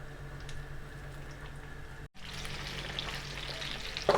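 Meat rolls filled with pickle and lard frying in a pan, giving a steady, close sizzle that holds throughout with a brief gap midway.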